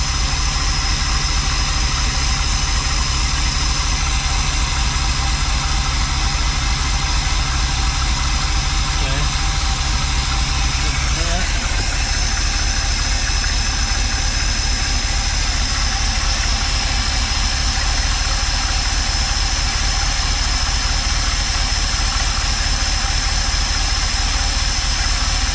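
A Mopar engine in a motorhome, fitted with a rebuilt carburetor, idles loudly and steadily from start to finish, a continuous close rumble with no pauses.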